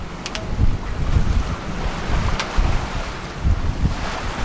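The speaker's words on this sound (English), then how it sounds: "it's so hard to catch the waves on camera" Strong wind and rough, choppy sea waves buffet a sailboat on a hard passage, a loud continuous roar with heavy surging splashes and wind noise on the microphone throughout.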